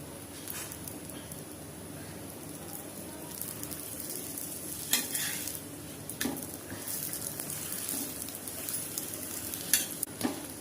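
A soft layered nool parotta cooks dry on a hot pan before any oil goes in, giving a steady sizzle broken by occasional scraping clatters and sharp taps.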